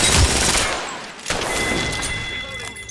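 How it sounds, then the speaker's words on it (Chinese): RE45 pistol spraying rapid bursts of fire in Apex Legends, a dense loud crackle of shots with effects ringing over it, brief and close. "我感觉我这把枪就是在撒子弹的"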